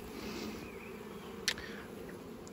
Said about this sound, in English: So you can see lots of bees in this box.